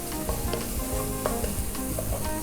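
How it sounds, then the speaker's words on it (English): Zucchini noodles sautéing in a preheated pan give a dense, constant sizzle with quick scraping stirs and small crackles, close and steady over a few seconds, with no voices. "You just want to give it a saute. Not too long at all, because zucchinis cook pretty fast"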